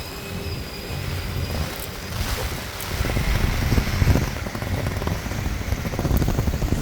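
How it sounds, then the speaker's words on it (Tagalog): Heavy rain pours down steadily on a street in Toamasina, Madagascar, a loud continuous hiss with no talking over it. "It's raining."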